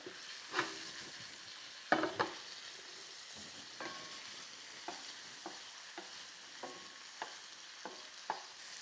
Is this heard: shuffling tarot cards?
no